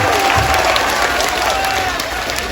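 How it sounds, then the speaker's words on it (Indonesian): A crowd claps steadily and loudly throughout, a dense wash of applause with no pauses. "Tepuk tangan untuk Banser Taiwan"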